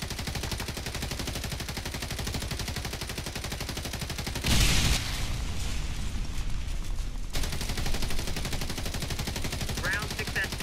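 Rapid gunfire rattles continuously in a video game, broken by a loud bomb blast midway that briefly floods the mix before the shooting resumes; faint voices sit underneath.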